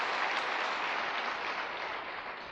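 Audience at a seminar retreat clapping, a dense, steady wash of many hands applauding together that slowly fades slightly toward the end, with no talk over it.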